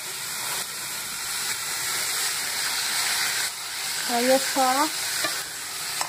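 Washed shrimp hit a hot pan and sizzle loudly and continuously while being stirred, with a short spoken phrase near the end.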